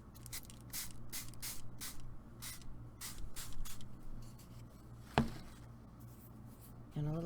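A spray bottle of white pearl mist shoots repeated short hissing bursts, about a dozen quick sprays in an uneven rhythm, close and crisp, followed by a sharp tap and a brief scrape near the end.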